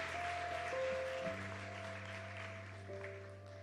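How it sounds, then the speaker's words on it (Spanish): A church congregation applauds during a Spanish-language service, a soft, even wash of clapping under sustained keyboard or organ tones that shift pitch partway through. "Dale un aplauso al Señor"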